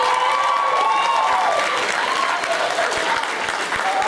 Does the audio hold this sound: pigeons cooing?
no